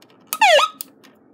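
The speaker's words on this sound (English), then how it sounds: "that's the siren. It's pretty loud" A loud siren from an AV1 multi-purpose 2-band radio gives one short rising-falling electronic wail, close and alone, bracketed by small clicks.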